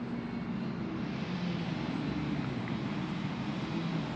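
A quick-build radio-controlled bush plane flies overhead at moderate throttle, its small engine giving a steady, even drone with a faint low hum that holds level throughout, with no voices.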